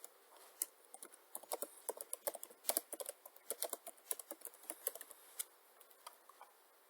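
Quick, light keystrokes patter on a computer keyboard as a title is typed, in irregular close bursts that slow near the end, quiet and with no voice.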